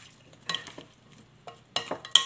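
A bitter gourd salad is tossed with vinegar in a bowl, with several short wet scraping and clinking stirs in uneven bursts, growing busier toward the end, with no voices.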